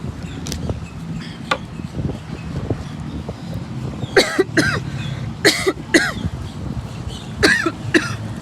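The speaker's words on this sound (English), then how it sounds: "With me coughing like that" Several sharp coughs in short bursts, close to the listener, spaced across a few seconds over faint background noise.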